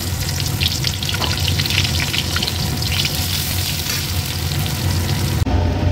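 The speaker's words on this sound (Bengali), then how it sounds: "আর এদিকে পেঁয়াজটা ভাজছি।" Onions frying in hot oil with whole cumin and garam masala give a steady, close sizzle that runs unbroken before cutting off abruptly near the end, with no talking.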